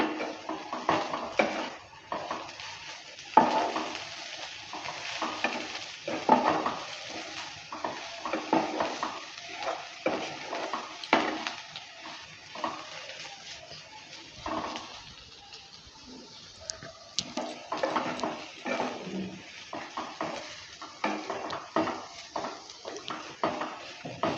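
A spatula scrapes and clanks against a pan as veg chowmein with chopped coriander leaves is stirred, irregular close metallic taps and scrapes over a soft frying hiss, no voices.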